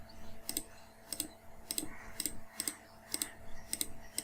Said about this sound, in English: I'm right clicking all the options over here.